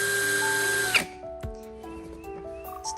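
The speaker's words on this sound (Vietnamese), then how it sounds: "Mình sẽ test máy cho mọi người." ANCHOR cordless hammer drill with a 13mm chuck whirring at steady speed for about a second, loud and close, then spinning down and stopping, followed by quieter handling clicks.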